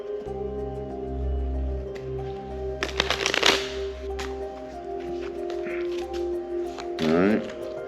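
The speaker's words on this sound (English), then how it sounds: "Do a little snap shuffle here." A deck of playing cards given a snap shuffle, a quick burst of dense crisp riffling and flutter near the mic, followed a few seconds later by a second short riffle, over a steady low background hum.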